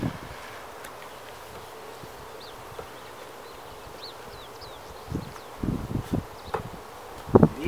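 Honey bees buzz around ten-frame hives in an apiary, a soft steady hum under scattered outdoor rustling, with a few louder knocks and handling sounds near the end.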